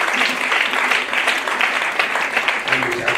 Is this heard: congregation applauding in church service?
yes